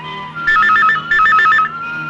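A landline telephone rings in a room in a Malayalam film scene, two bursts of rapid electronic trilling, loud and close, with a faint background hum between them and no talking.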